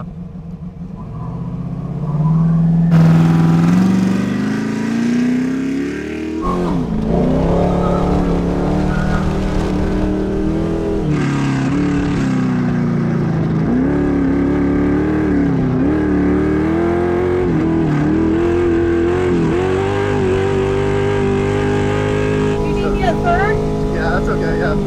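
An 830 horsepower Bronco built for King of the Hammers off-road racing runs its engine with a loud, rough, throbbing note. It rises and falls through revs, heard close, and people talk over it.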